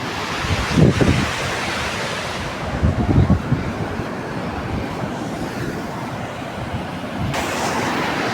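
Mountain water at Sonamarg in Kashmir rushes past in a loud, unbroken roar, with gusts of wind buffeting the microphone and no voices.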